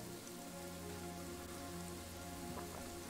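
Rain falls steadily in the Kingdoms and Castles village-building video game, a dense, even patter that stays constant and fairly soft, with no voices.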